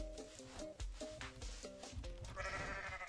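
A goat in the video game Goat Simulator gives several quick, wavering bleats in a row over a thumping game soundtrack, faint and without talk.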